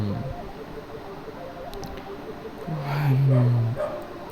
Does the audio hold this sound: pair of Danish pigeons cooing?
no